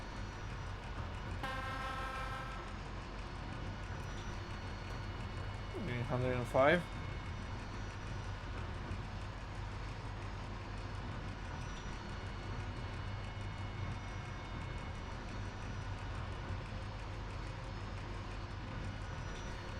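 Train running on a bumpy line in Trainz 22, a low steady rumble of rolling wheels with a horn toot sounding near the start and a brief louder burst midway, under someone talking.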